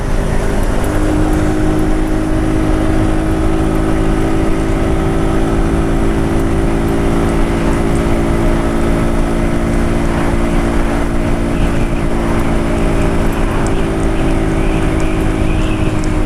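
A 50cc moped engine riding in traffic, a loud continuous buzzing drone with wind noise, steady throughout with no speech.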